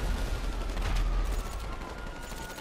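Gunfire from a heist shootout in Grand Theft Auto Online on PC, a dense rumble of rapid shots blending together, loud and continuous across the whole stretch without talk.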